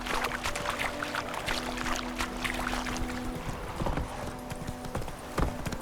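Horse hooves gallop in the Witcher 3 video game, a fast, steady clip-clop rhythm close up over a soft outdoor background with faint tonal hum.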